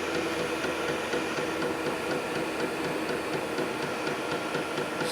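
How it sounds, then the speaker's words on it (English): A Vevor 8KW diesel heater running in a garage, its fan whirring steadily with a fast rhythmic ticking from the fuel pump, close and continuous with no talk. "it's definitely this fan ramped up and the fuel pump is going better"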